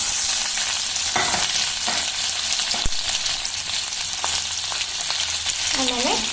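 Onions frying with mustard seeds and cumin in a hot pan for pav bhaji, a bright dense sizzle throughout with scattered pops and stirring scrapes, near and fairly loud, with no one talking.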